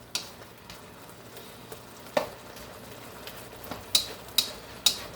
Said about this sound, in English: At this point I just let it simmer in the sauce and cook.